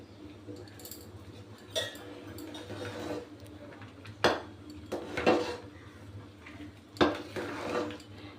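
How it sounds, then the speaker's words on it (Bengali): A spoon stirring turmeric into hot khichuri in a cooking pot: scattered metallic clinks and scrapes against the pot, a few sharper knocks among softer rustling, at close range under low kitchen background. "আমি হলুদটা খিচুড়ির সাথে দিয়ে খুব সুন্দর করে একটু নেড়ে নিয়েছি"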